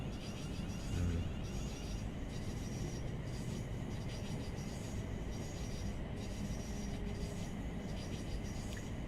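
Class 700 electric train running in Train Sim World 3, a steady rolling rumble with faint wheel squeal and rhythmic clickety-clack over the rails, continuous and fairly close.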